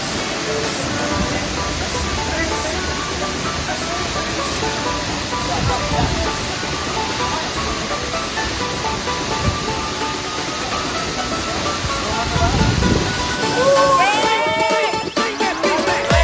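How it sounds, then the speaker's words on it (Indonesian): Water at Curug Cisadane, a waterfall reached on a trek, rushes in a steady broadband roar heard close by. It continues unbroken for the whole stretch, with brief handling knocks near the end. "Kita udah sampai di Curugnya, di air terjun."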